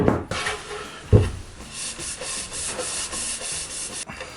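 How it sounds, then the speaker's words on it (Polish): A harsh scraping rub of a nail or screw across a wooden board, steady and close, with a sharper knock near the start. "Albo gwóźdź, albo wkręt. I słychać jak to rysuje."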